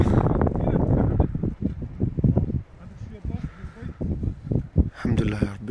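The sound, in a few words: strong wind gusts blowing at a forest campsite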